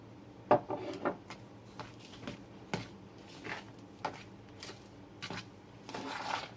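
Dry coriander seeds and a second spice being pounded for an aloo paratha filling: about nine sharp, hard knocks at an uneven pace, close and fairly quiet, with soft scraping between strikes and no talking.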